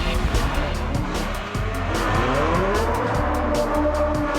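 A Ferrari F12 V12 engine accelerates hard in first gear toward 6,000 RPM, close up, its high-pitched roar climbing steadily in pitch, loud and unbroken.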